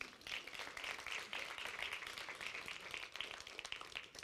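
An audience at a motivational conference talk claps together, a fairly faint, steady patter of hands that lasts the whole stretch, with a few louder individual claps.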